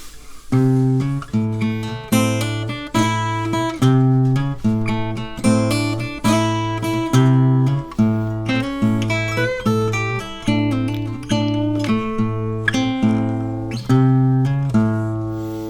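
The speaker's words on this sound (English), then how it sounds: "today I'm gonna show you one fingerstyle blues lick" An acoustic guitar plays a fingerstyle blues lick, a bouncing bass note under repeated plucked chords, close and clear with nobody talking.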